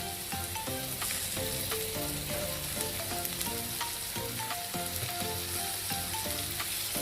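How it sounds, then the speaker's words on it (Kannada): Tomatoes sizzle steadily in a pan over already-fried onion, with loud, continuous frying crackle and occasional stirring scrapes throughout, with no talking. "ಟೊಮೆಟೊ ಹಾಕಿ ಫ್ರೈ ಮಾಡೋಣ."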